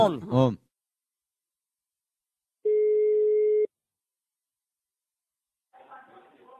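A telephone line tone sounding as a single steady electronic beep of about one second, isolated amid silence, with a short burst of voice before it and faint murmuring afterward.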